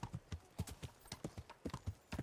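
Horse hooves clip-clop steadily in Kingdom Come: Deliverance, a brisk, even rhythm of paired clops on a hard path, fairly close and clear with no talk over them.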